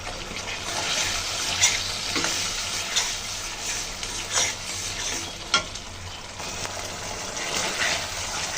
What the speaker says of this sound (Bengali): সব কিছু দিয়ে মশলাটা আমি সুন্দর করে কষিয়ে নেব।